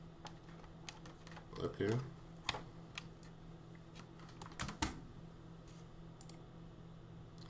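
Data is typed on a computer keyboard in irregular bursts of close, light key clicks, with a brief spoken word partway through.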